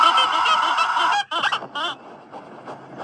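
A bird in a mobile video game honks loudly and steadily for about a second, then gives a few shorter, quieter goose-like calls over faint game sounds.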